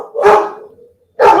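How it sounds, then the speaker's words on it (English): A dog barks twice, close and loud, each bark short and sharp with a quiet gap between them. "The dog's barking."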